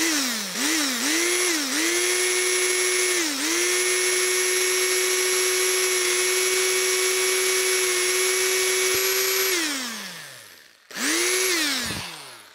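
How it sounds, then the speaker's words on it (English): An older power drill whines steadily at high pitch for about ten seconds, boring a small hole for a refrigerant liquid vaporizer, dipping briefly as it bites, then stops and revs once more in a short final burst. "I'm gonna actually use a older drill here"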